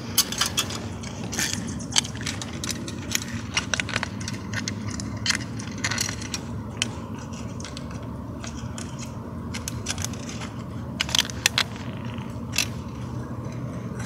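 Trowel or fingers scraping and crunching into garden soil while opening a mole burrow to set a Cinch mole trap, with irregular gritty scrapes and small crumbling clicks close by throughout, without any talk.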